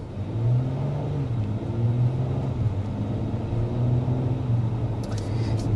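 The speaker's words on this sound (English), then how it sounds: "Here's an example of just a normal acceleration." A 2025 Acura MDX or 2024 Lexus RX 350 SUV pulls away under normal acceleration, its engine note rising in a steady, moderate hum and whir heard from inside, with a continuous low rumble throughout.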